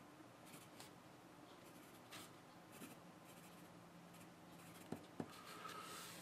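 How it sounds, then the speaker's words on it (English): A DOMS neon rubber-tipped graphite pencil writes on paper, soft scratchy strokes in short bursts, close and quiet, with a couple of light taps near the end. "I could still write some more sentences here"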